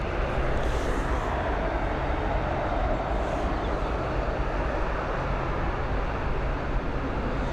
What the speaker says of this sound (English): Next up, we've got this ATR 72-600 series.